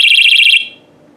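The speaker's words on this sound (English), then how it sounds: "it has 120 decibel screeching alarm" A Nitecore NWE30 compact emergency beacon lets out a very loud, piercing high-pitched electronic alarm that warbles rapidly for about half a second, then stops abruptly and leaves faint room noise.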